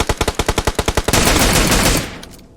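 Automatic gunfire in the PUBG Mobile video game: a rapid string of about ten loud, evenly spaced shots, then a dense sustained burst that fades out.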